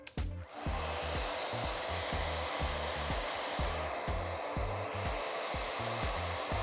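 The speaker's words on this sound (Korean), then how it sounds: "드라이기 바람을 넣어 줄 겁니다" A hair dryer blows steadily at close range, a loud continuous whooshing roar with a brief start-up and slight wavering in pitch.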